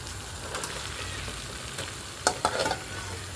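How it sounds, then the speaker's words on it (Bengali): Fried soybeans and potato sizzle and crackle in hot oil while being stirred, with a few sharp scraping clicks of the spoon near the end, close and alone. "সয়াবিন ভাজাগুলো দিয়ে দেব"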